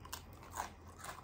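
A crispy garlic breadstick-like Greek snack crunches briefly at close range, with a few sharp crunches and no talking.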